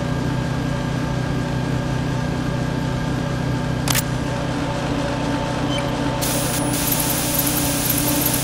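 Coolant spray freezing C4 explosives in Metal Gear Solid 2 at Strut E, a continuous loud hiss that runs steadily for over eight seconds, with a brief sharp sound partway through and a higher tone entering near the end.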